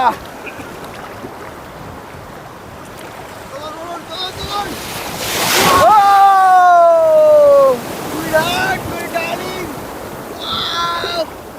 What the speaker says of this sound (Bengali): সমুদ্রে দারুণ ঢেউ